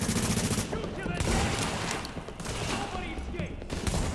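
Sustained gunfire in The Division during a hard-mode mission, dense bursts that sound like rapid automatic fire, loud and continuous throughout.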